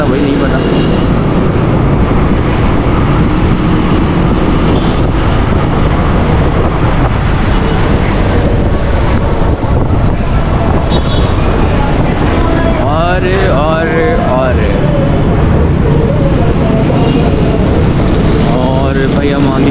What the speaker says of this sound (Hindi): हवा का प्रेशर जो है बाइक को सांप की तरह लहरा रहा है